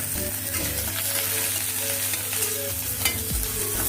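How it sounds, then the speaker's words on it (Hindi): Bay leaf and tempering spices fry in hot mustard oil in a pan, producing a continuous close sizzle with faint crackles and a low background hum throughout. "तेल गरम हो गलानी एबे आमे तेजपत्र दबा आ फुटण पकेइबा"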